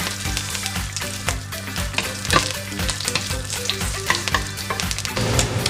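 Garlic sizzles and crackles steadily in hot olive oil in a pan as the base for a sinigang soup is started, with loud close frying and light stirring clicks, and nobody talks.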